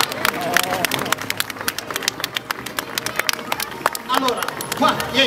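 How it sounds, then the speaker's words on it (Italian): Outdoor crowd at a motorcycle stunt show where the rider jumps over people lying on the ground claps in sharp, uneven bursts, fairly close, with voices talking through the applause. "Ditelo con l'applauso, se no noi non aggiungiamo nessuna persona."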